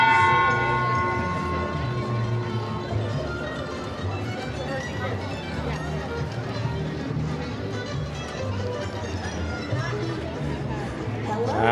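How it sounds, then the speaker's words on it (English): The Hershey Kiss bell at the Hersheypark amusement park rings out at four o'clock. Its clear, ringing tones sound at the start and fade under steady crowd chatter and bustle. "That was the Hershey Kiss Bell telling us 4 o'clock."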